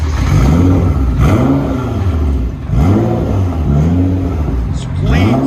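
Nissan GT-R with a 3.8L twin-turbo engine and straight-pipe muffler-delete exhaust revving loudly up close, rising and falling in repeated surges over a constant heavy drone, with voices talking over it.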